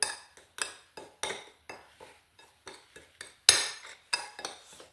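Paprika, granulated garlic, coriander, black pepper and salt stirred together in a bowl: a spoon clinks and scrapes against the dish in a quick irregular series of light taps, close and alone.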